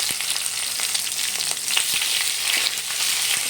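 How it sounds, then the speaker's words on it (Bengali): Green chilies and chopped onion sizzle in hot oil with whole cumin for a bottle gourd and egg curry, a steady close crackle with a few stirring scrapes and no talk. "তারপর এর মধ্যে দিয়ে দেব কাঁচা লঙ্কা এবং পেঁয়াজ কুচি।"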